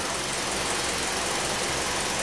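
A Hyundai Elantra engine runs with an ignition coil misfire, giving a dense, steady mechanical roar heard up close with no talking.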